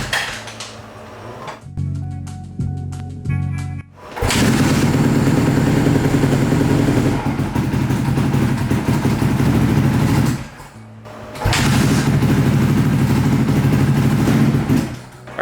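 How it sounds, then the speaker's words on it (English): Freshly built supermoto motorcycle engine started and running, with a short rattly clattering start-up, then loud sustained engine running that cuts out briefly near the ten-second mark before picking up again, close to the microphone. "we're gonna run the bike and then check the oil level again"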